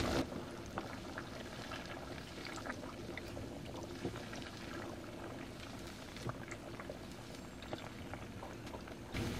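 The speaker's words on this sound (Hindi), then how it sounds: "इसको फ्राई होने में 4 से 5 मिनट लगेंगे" Samosa pinwheels deep frying in hot oil give a steady, dense bubbling and crackle that runs unbroken and fairly loud throughout, with no voices.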